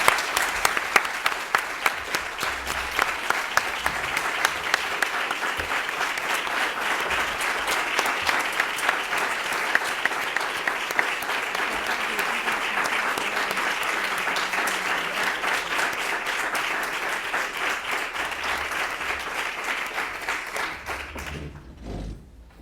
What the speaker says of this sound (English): I really want everyone in this room to give these women a huge round of applause